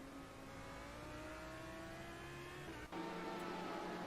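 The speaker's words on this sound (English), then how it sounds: "heavily braking, revving the nuts off of that Audi engine" Audi GT3 race car at Dubai braking hard into a corner while the engine revs high and strained, a steady loud drone with a brief dip and downshift blip near the end.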